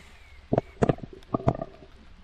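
A hungry character's stomach rumbles in The Forest video game, several short low gurgling bursts in a quick irregular series, fairly close and clear with no talk over them.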